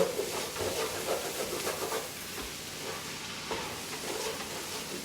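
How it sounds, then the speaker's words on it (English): Fresh thyme and arborio rice stirred in a hot pan for a garden risotto, giving a steady close sizzle and scraping with soft rustling texture throughout, no voices. "Keep stirring that."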